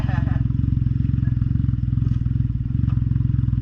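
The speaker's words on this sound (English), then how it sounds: "I'm gonna be coming by so y'all can hear the exhaust." A Can-Am Ryker 900 fitted with an RLS Predator Series exhaust rides past, its engine a steady, loud, rumbling drone with a rapid pulsing beat that runs through the whole stretch.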